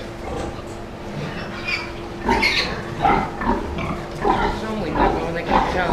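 Thirty-day-old piglets grunt and snort repeatedly up close, with wet chewing and snuffling noises as they eat, while a person talks over them.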